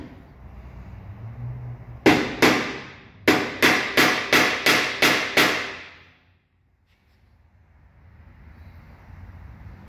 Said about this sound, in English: Another way is to just tap it with a hammer.